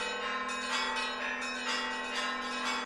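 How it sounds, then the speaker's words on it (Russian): A strike-type bell on the left handlebar grip of a Kugoo V1 electric bike dings repeatedly, each bright metallic strike ringing on into the next in a steady, sustained chime without speech. "По левой рукоятке находится штатный звонок ударного типа, похожий на колокольчик."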